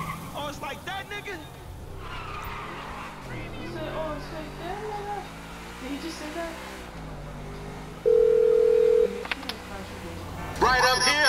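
A phone call tone rings out in the video game Grand Theft Auto V: a steady, loud electronic beep of about a second, sounding after a stretch of talking voices and car engine noise, with more talk resuming afterward.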